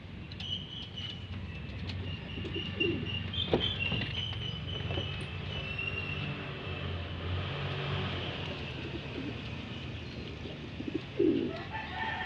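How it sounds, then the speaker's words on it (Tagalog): Outdoor ambience with birds and a low rumbling background; soft cooing of homing pigeons and faint wing flutters come through, with a brief louder rustle near the end. "So ayan mga ibon natin lumilipad."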